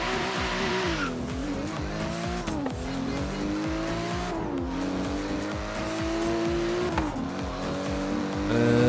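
BMW M2 driving in the racing video game Forza Horizon 3, engine droning loudly and steadily with repeated rising and falling revs as it shifts gears, tires squealing through corners, no talking.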